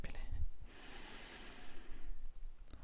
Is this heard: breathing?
yes